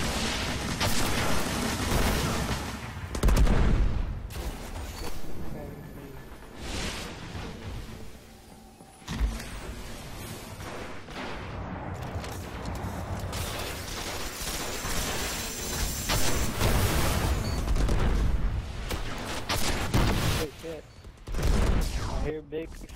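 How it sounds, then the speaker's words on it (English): Bursts of rapid gunfire and booming explosions in a video game come and go in waves, loud and chaotic, with voices talking in between. "I hear big explosion."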